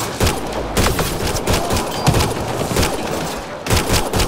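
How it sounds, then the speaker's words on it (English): Rapid sustained weapon fire from an assault turret in the Mass Effect video game, a loud continuous barrage of bursts and thuds with no talking. "shooting flames, putting in work."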